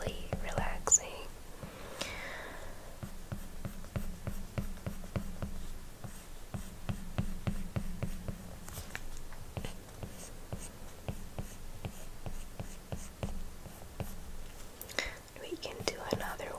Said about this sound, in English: the sounds the Apple Pencil makes while painting those